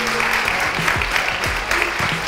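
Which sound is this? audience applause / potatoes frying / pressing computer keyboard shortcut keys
audience applause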